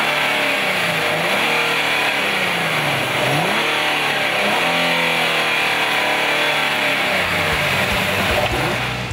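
A 2014 Nissan 370Z Nismo engine revs repeatedly, loud and close, its pitch sweeping up and falling back in several surges over a steady mechanical roar.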